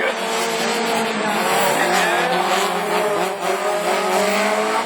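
Division 4 rallycross race cars at Lessay run nose to tail in a French championship race, loud engines roaring and revving hard with tire squeal and skidding, a dense continuous blast close by.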